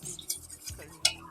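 A spoon scrapes and stirs milk and rice flour in a pot for paal kozhukattai, with soft liquid swishes and a few sharp metallic clinks against the rim.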